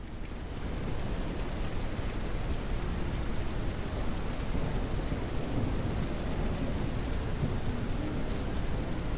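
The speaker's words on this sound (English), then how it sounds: "Oh, we got a thunderstorm going." A thunderstorm with heavy rain in the game Noble Legacy, a dense, steady roar of downpour with low rumbling, loud and unbroken from start to finish, no voices.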